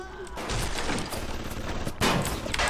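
Automatic turret gunfire in the video game Bioshock, a sustained loud crackle of shots for nearly three seconds with a sharper burst near the end, with no talk over it.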